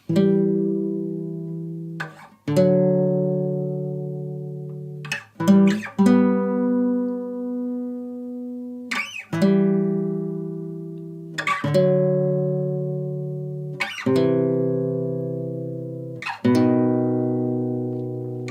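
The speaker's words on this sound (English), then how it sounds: "I'm playing it on a classical guitar, standard tuning" Plucked classical guitar notes ringing out one after another in a slow melody, each note decaying before the next, played close and clear with no voices.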